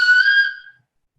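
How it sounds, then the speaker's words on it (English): A Märklin digital model steam locomotive sounds one short, clear whistle blast, bright and tonal, fading out within under a second into silence. "I will blow a short whistle"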